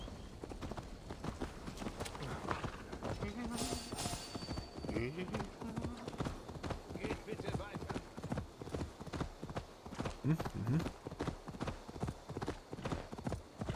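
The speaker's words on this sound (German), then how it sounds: "Oh, ich glaube, ich hole mein Pferd." Steady hoofbeats of a galloping horse clatter on and on in Assassin's Creed Valhalla, with a brief whinny early on, under game sounds and someone talking in German.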